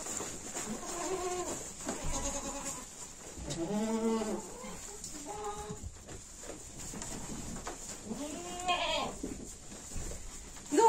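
Goats and newborn kids bleating just after kidding: repeated overlapping bleats from several animals, some higher-pitched, fairly close, over a steady background hiss.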